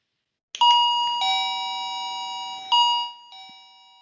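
Doorbell modified with a NodeMCU ESP8266 playing its chime melody: a clear electronic ding-dong of several sustained bell-like tones, loud and close in a quiet room, then fading out.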